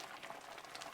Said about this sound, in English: this jam is getting really noisy with its bubbling